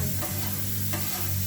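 Water hisses and sizzles steadily on a hot camp grill during cleaning, a close, continuous crackling wash with faint scraping underneath.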